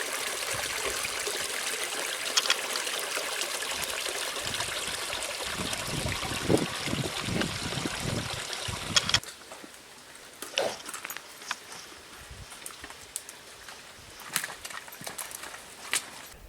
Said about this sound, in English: we can see that they've combined to create what is quite a bit of water now coming down to make us a real stream